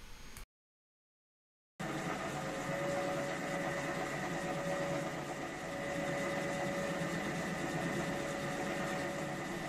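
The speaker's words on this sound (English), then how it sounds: "At this point, I'm only going to be facing off the top of the body for the stuffing gland." A lathe facing off the top of a model steam engine cylinder cover for the stuffing gland, a steady close machine hum with a faint cutting whine that starts after a brief silence and runs unbroken, no talking.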